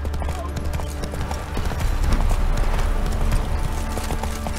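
Steady clip-clop of horse hooves at a brisk pace over a continuous low rumble, with scattered background sounds; no clear speech.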